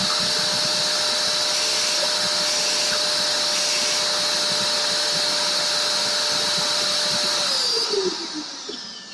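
An LPKF circuit board engraving machine runs with a loud, steady whirring drone and a constant tone throughout, then winds down near the end as the spindle slows.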